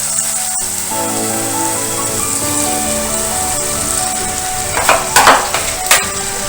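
Finely ground spinach paste hitting hot frying masala in a pan, producing a loud, continuous close sizzle, with brief scraping stirs near the end.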